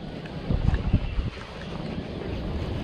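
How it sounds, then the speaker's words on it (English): Strong wind of around 20 miles an hour gusts by a river on a rainy day, buffeting the microphone with loud low rumbles before settling into a steady roar. "Got like 20 mile an hour winds."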